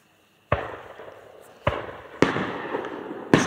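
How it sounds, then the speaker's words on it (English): Fireworks go off during a July Fourth search-and-rescue training session with a German Shepherd, four sharp bangs each followed by a crackling, decaying tail, loud and fairly close, with no talking. "Some fireworks in the background there"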